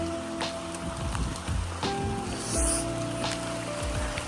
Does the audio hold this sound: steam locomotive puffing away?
no